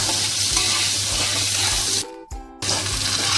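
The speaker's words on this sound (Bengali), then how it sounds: "এবারে কচুর ঘাটিগুলো ভেজে নেব এইভাবে হালকা" Taro pieces fry lightly in oil with a steady, close, broadband sizzle. About halfway through, the sound drops out abruptly for half a second, then resumes at the same level.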